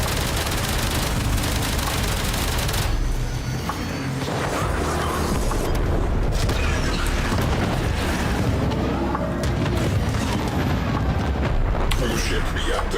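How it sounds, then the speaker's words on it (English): Enemy cruise ship reactor detonating in Warframe, heavy booming blasts and rumbling over constant loud battle noise with scattered gunfire, while a person talks throughout. "Cruise ship reactor has detonated."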